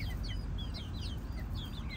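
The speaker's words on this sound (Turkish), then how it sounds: "benim horozum geldi bak" Chickens and a rooster cluck softly in a backyard coop, short chirpy calls repeating over a steady low rumble of background noise, fairly faint and continuous.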